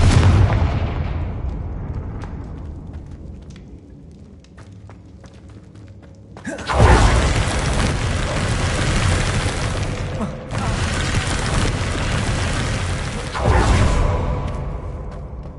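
Confringo blasting spells in Hogwarts Legacy go off as a series of heavy booming explosions with whooshing bursts, three big loud blasts following a quieter stretch of rumble and small pops.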